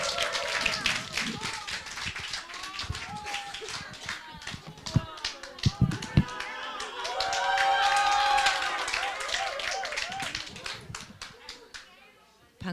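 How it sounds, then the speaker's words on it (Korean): An audience claps to welcome a speaker at a youth retreat lecture, with scattered taps and claps standing out among voices and crowd noise that swell partway through before fading. "큰 박수로 맞아주시기 바랍니다"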